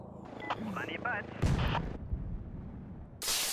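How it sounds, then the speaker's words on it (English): A cannon fires in the Henry Stickmin video game, a heavy booming blast with a broad burst and rumbling tail, following short game sounds and voices, with another noisy burst at the end. "This cannon was actually built to fire humans."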